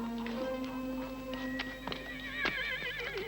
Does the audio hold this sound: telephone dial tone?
no